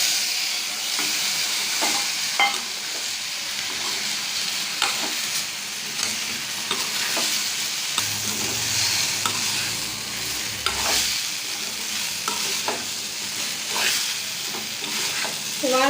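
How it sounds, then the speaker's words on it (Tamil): Boiled plantain and grated coconut for poriyal being stir-fried in a pan over a medium flame, a steady sizzle broken by repeated scraping and tapping of the spoon, close and continuous. "அடுப்பை மீடியம் ஃப்ளேமில் வச்சு எல்லாமே வதக்கிக்கோங்க."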